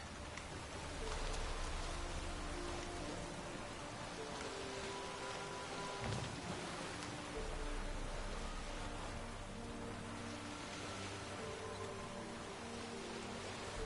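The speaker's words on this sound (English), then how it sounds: "when we get in the boat, it's always raining" Constant hiss of steady rain in the video game The Witcher 3: Wild Hunt, with a low rumbling undertone, even and unbroken throughout, no speech.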